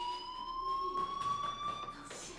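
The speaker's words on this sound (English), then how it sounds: "do you hear that fire alarm?" A school fire alarm rings in the video game Life is Strange, a steady electronic tone sounding continuously at moderate volume with no talking.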